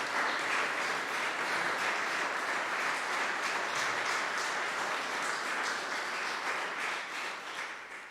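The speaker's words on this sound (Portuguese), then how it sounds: "Uma salva de palmas" An audience at a poetry award event applauds the poets with a sustained, even roar of clapping that stays loud throughout and begins to thin only at the very end.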